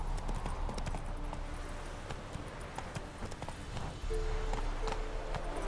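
A horse gallops in The Witcher 3, its hooves clip-clopping in a fast, steady rhythm close by, with a brief pause before the pace resumes.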